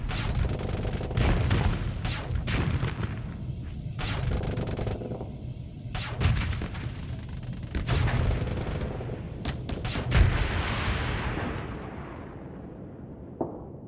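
Weapons fire in the space combat game Starsector: dense volleys of booming shots and blasts pile up continuously, loud and close, then thin out into a fading rumble with a final sharp hit near the end, without talk.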